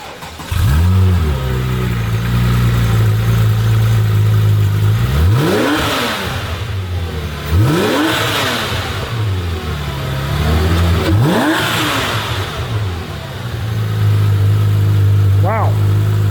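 A Porsche 911 Turbo S flat-six idles with a deep hum, then is blipped three times in a row, each rev climbing sharply and falling back. A final short rise comes at the end, and people talk over the engine.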